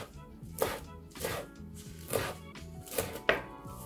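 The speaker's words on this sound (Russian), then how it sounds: "За это время нарезаем зелень петрушки." Knife chopping fresh parsley on a board, a series of irregular sharp taps at close range against light background music.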